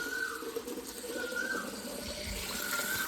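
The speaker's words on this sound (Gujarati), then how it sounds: "થોડુંક ઝાડવામાં પાણી પીવડાવી દઉં" Water runs from a tank tap to water trees in hot weather, a steady faint splashing stream with a thin recurring squeal from the tap, no one talking.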